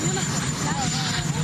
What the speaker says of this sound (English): You have a helicopter.